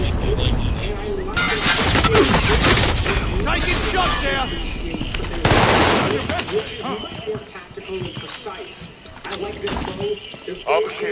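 Call of Duty Warzone gunfire comes in loud bursts of rapid shots with mechanical clatter, heaviest early and again midway, under frequent voice chatter.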